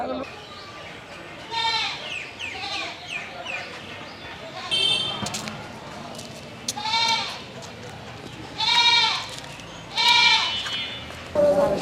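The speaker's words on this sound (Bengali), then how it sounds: "দুইটা সুন্দর সুন্দর ছাগল নিয়ে আসছে" Goats bleat repeatedly in short wavering cries, some close and loud, amid background voices and outdoor noise.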